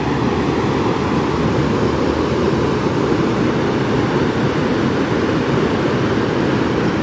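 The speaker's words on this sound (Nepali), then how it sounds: "खोला त बढेर यस्तो बवाल भइरहेछ अहिले" A swollen stream in flood rushes steadily and loudly close by, a dense, unbroken roar of water with no talking over it.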